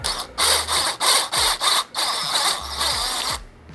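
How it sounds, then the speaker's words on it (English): A power drill with a stepper bit whirs in several short bursts, pausing between each, followed by a longer steadier run of grinding as the bit cuts through a plastic lid. "we are going to drill our lid a bit bigger. As usual, I am using a stepper drill bit"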